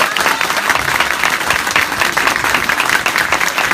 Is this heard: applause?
yes